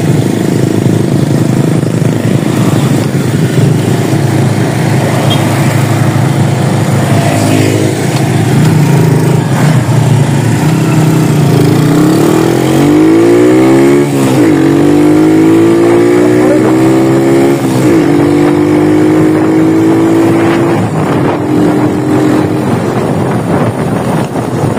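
A 13-year-old Bajaj CT100 motorcycle with a 14/38 sprocket setup revs hard, its engine tone climbing and falling in repeated sweeps amid steady wind roar, with someone speaking over it.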